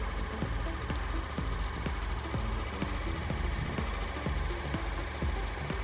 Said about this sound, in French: Je démarre le moteur, je vérifie que tous les voyants rouges soient éteints.